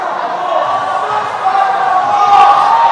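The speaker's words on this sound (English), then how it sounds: "you can hear from the crowd already, the boos raining in as Quakertown just can't get anything to be their way" A crowd in a high school gym boos during a boys' varsity basketball game, a sustained, loud wall of jeering voices that swells slightly toward the end.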